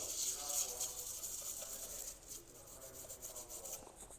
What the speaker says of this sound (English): So just a nice scrub.